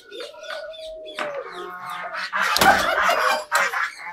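Doves nesting in the pheasant section of an aviary coo and call close by. Their soft, repeated notes mix with louder, harsher fowl-like calls and a brief burst of flapping or scuffling.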